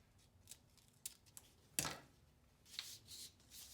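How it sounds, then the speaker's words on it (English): Scissors snip through tape on a homemade sander belt, a few quiet cuts with one sharp, louder snip in the middle amid faint handling noise. "We'll trim off this little extra piece of tape that I put on here."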